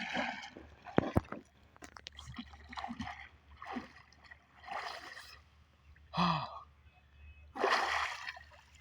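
Someone plunges into cold water in winter, with repeated splashing and sloshing between sharp gasping breaths and sighs, close and moderately loud.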